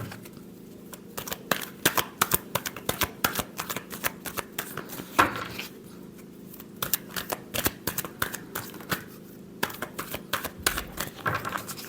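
Tarot cards are shuffled close up, a quick, crisp run of papery riffles and taps coming in bursts with short pauses, with no talk over them.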